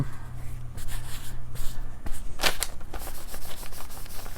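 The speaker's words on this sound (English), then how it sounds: "Rub some of it off. Smooth it out." Fingers rub across watercolor-painted paper, making soft, close scuffing strokes in uneven bursts with a few sharper brushing sweeps.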